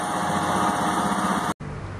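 A Next 250 motorcycle engine with a weak fuel pump runs at a steady, close, loud drone, with a brief break near the end before it continues.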